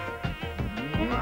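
A mosquito whines in a mosquito-trap commercial, a close, thin buzzing drone that wavers in pitch with a few sharper pulses over a short span.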